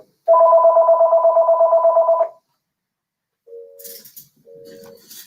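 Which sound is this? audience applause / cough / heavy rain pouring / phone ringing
phone ringing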